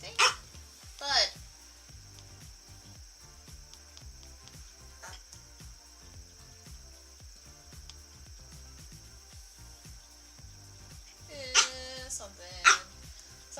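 A dog named Karkar barks indoors, a few short sharp barks spaced far apart, the first pair near the start and another pair near the end, with quiet talk and background sound between them.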